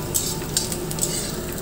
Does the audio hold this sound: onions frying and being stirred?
yes